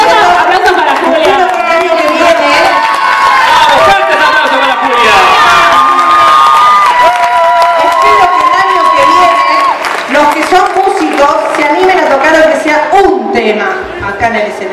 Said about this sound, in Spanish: Aplauso para Julia.